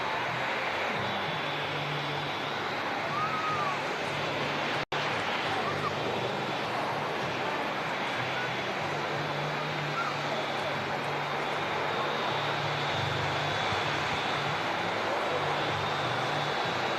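Jet engines at Manchester Airport, where an A380 and a TUI jet are on the ground, make a steady, broad roar that holds throughout, heard at a distance from outdoors with faint voices murmuring beneath it.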